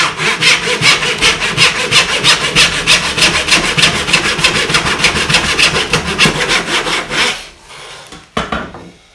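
A hand saw cuts wood in a saw guide for straight and angled cuts, giving a fast, steady run of loud rasping strokes up close before stopping near the end.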